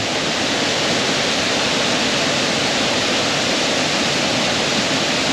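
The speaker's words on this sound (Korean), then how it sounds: "여기서 이렇게 폭포수가 떨어지는 걸볼수 있네요." A steady, loud roar of falling water, broad and unbroken throughout, like a small waterfall heard up close with no other sounds, at Soi Sawan-area Samrong Kiat waterfall in Sisaket, Thailand.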